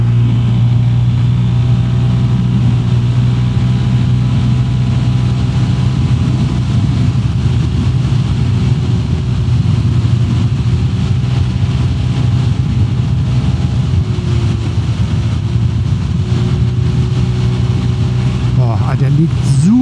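A Lambretta G350 retro scooter accelerating along a country road, its engine a steady droning hum with rising tone under wind rush, as a rider talks over it.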